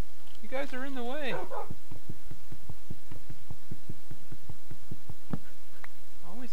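Minecraft dogs crowd around: a rising, wavering whine opens, followed by a quick run of short, rhythmic yips and thumps, with a brief yelp near the end.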